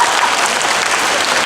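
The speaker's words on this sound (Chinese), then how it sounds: "掌声鼓励一下" A congregation at a church Sunday service claps together in loud, dense, continuous applause with no pauses.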